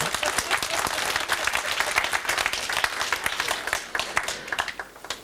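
Audience applause from a seated crowd at an emotional intelligence lecture by Dr Girish Patel, dense sustained clapping that holds steady and then thins into scattered claps near the end.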